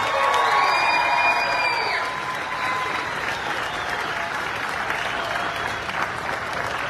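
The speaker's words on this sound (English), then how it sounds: "a big, big, big round of applause" A festival crowd at a traditional Irish music fleadh applauds and cheers on an outdoor stage, with loud sustained clapping, a whistle-like whoop at the start and scattered shouts throughout.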